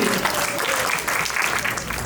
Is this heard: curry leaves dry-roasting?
no